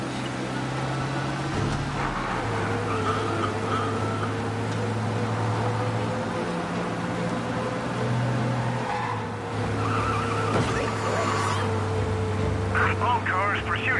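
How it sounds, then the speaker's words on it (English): A car in Mafia speeds away from police, its engine droning loud and continuous with shifting revs and faint tire noise, while people talk over it. "We lose them by driving real fast and getting clear of them."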